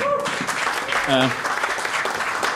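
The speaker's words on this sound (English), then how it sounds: "Please continue your applause for the gorgeous Michael Ralston" Audience applause at an Edinburgh cabaret night follows a performer's introduction, a dense steady wash of clapping filling the room, with a voice and a brief tonal sound cutting through partway.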